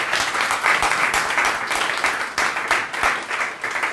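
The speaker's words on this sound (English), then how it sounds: "round of applause for her" Live audience at a magic academy audition claps in a steady, dense round of applause, close and fairly loud throughout with no voices over it.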